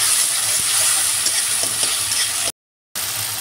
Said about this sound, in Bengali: পেস্ট করা মশলা দিয়ে ভালো করে আমি কষিয়ে নেব, যাতে আদা রসুনের গন্ধটা ছেড়ে যায়।